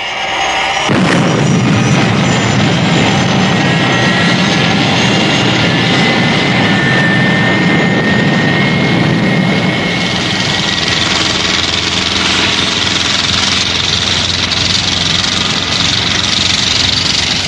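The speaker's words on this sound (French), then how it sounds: "Nous sommes prêts à décoller." An aircraft engine spools up abruptly to a loud, sustained roar that holds steady as the plane readies to take off, with no voices over it.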